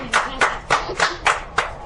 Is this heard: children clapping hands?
yes